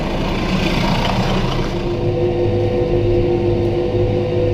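A tractor engine revs hard and holds a loud, steady mid-pitched drone on the way to a hay field for mowing, with no voices over it.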